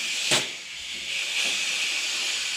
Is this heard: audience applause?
no